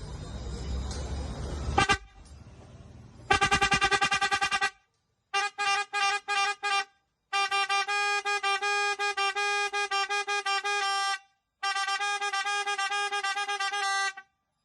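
An electric 12-volt battery-powered vehicle horn honks loudly in repeated bursts, short toots followed by longer sustained blasts, after some brief background noise at the start.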